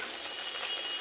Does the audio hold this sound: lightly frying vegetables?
yes